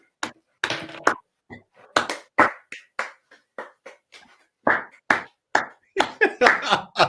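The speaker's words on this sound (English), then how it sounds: "I'm going to clap him virtually" One person claps their hands in an ovation, giving a series of sharp, uneven claps at close range with short pauses between them, loud and alone.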